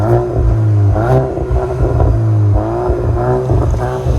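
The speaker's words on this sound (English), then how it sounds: "let's get that engine note" A Volkswagen Golf GTI engine revs up and down several times, a steady rumbling note rising and falling, loud and close with no one talking.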